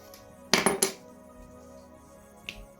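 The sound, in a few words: prying open a Toyota key fob remote casing with a key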